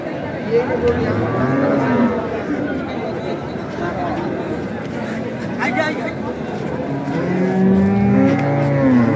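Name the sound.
dairy cows at a cattle market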